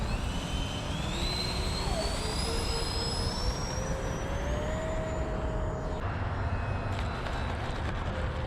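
Eflite A-10 twin 64mm EDF RC jet taking off, its ducted fans giving a loud steady whine with rising pitch that holds throughout, over a broad rushing roar and no talking.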